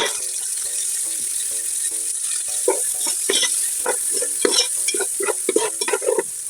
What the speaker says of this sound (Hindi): आंच करेंगे और अच्छे से मसाला भून जाए।